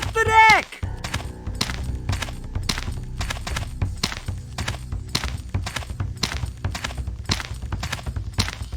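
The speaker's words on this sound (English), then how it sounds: "Runaway horse! Hit the deck!" Hooves of a runaway horse in the Lionel Trans Con video game clatter in a fast, steady clip-clop rhythm of sharp repeated thuds, following a brief loud tonal cry at the very start.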